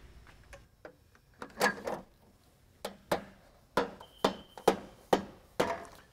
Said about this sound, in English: Use a rubber mallet when you're installing this.